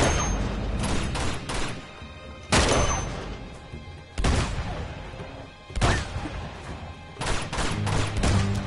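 Heavy gunfire in Uncharted 2: Among Thieves, with loud shots and bursts that hit hard and repeat through a dense, echoing action scene, mostly with no voice.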